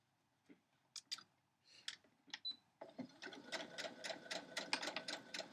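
A sewing machine stitches quilt blocks, starting with a few separate clicks and short whirs, then settling into a steady run of rapid needle strokes, close and moderately quiet.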